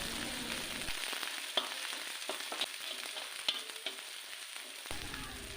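Onion fries with pounded ginger, garlic and green chili paste, a close steady sizzle broken by scraping stirs and small pops, no speech.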